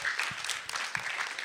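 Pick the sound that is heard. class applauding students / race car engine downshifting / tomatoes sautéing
class applauding students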